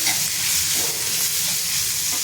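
Homemade Agri masala and turmeric fry in a hot pan for a dry Bombay duck dish, giving a loud, close, continuous sizzle with no talking.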